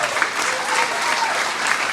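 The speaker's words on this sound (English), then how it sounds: "Give our Senate President another round of applause, Rob McColley." Banquet audience at a Paulding County GOP event in Ohio applauds loudly for the state Senate President, a steady dense wash of many hands clapping throughout with a few cheers mixed in.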